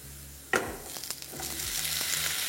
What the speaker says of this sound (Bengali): তাই পেঁয়াজের সাথে এই কাজুটাকে আমি ভালো করে ভেজে নিচ্ছি